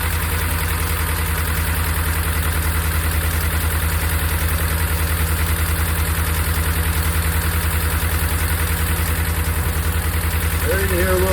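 A Hemi V8 engine idles steadily with a faint ticking noise riding on its low, even rumble, running alone close by for the whole stretch.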